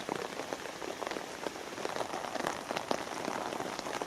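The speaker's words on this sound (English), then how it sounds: "it's still raining like crazy" Heavy, nonstop rain pours down in a dense, steady hiss of countless drops pattering on surfaces, loud and even throughout with no voices.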